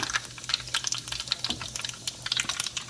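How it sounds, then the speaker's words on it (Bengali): Panch phoron, the Bengali five-spice mix, sizzles and crackles in hot oil with a dense run of sharp, close pops and spits over a steady frying hiss, with no talk. "এখন আমি ভাবি এটাতে ফোড়ন দিব"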